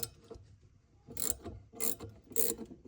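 Three quick bursts of ratcheting clicks from a wrench loosening a bolt under a sink faucet, close but fairly quiet, with soft handling noise between the strokes.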